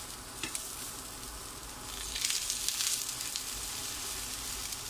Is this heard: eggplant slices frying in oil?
yes